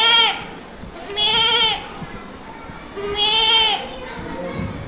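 A child imitates a goat's bleat at a school animal-sounds performance: three drawn-out, wavering bleats with rich harmonics, fairly close and loud, separated by short pauses over a low murmur of room noise.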